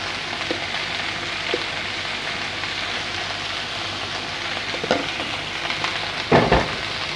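A Kerala-style vegetable mezhukkupuratti with turmeric and chili powder is stirred in a hot pan: continuous sizzling and crackle, a few scraping stir strokes, and a louder clatter near the end, no talking.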